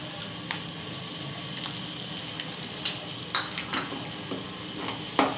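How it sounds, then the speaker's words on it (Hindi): Semolina sizzles steadily in hot ghee while a spoon stirs it, adding occasional light scrapes and taps against the pan over a constant frying hiss. "अब इसमें मैं सूजी डाल दूंगी।"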